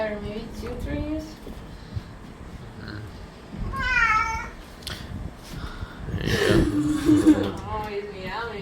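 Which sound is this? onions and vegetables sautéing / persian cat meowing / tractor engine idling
persian cat meowing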